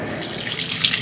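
Freshly caught catfish being washed under running water, a steady close splashing rush of water over the fish, loud and alone.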